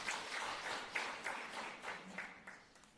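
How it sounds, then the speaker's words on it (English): A brief burst of moderately faint applause from attendees at a petroleum policy consultation meeting in Namibia, tapering off over a few seconds. "Please give Honorable Shilunga another round of applause."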